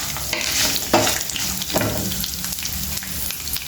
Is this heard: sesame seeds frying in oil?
yes